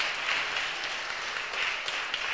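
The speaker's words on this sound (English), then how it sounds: "let's give them a welcoming comeback round of applause" Steady, dense applause from a jazz vespers audience welcoming back the bass, keys and sax players, an even wash of many clapping hands throughout.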